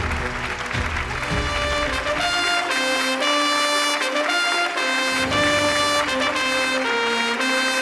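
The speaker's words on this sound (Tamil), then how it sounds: "பூவிலங்கு மோகன் சார் அவர்களுக்கு ஒரு மிகப்பெரிய கைத்தட்டல்" Audience applause at a Zee Tamil awards event honouring actor Poovilangu Mohan, mixed with loud, steady music, with clapping most evident in the opening seconds.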